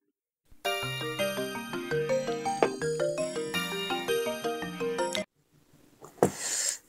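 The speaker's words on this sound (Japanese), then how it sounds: "私にすぐ電話かけてみますよ。" A melodic electronic smartphone ringtone for an incoming call plays clearly for several seconds, then stops, followed by a brief burst of noise.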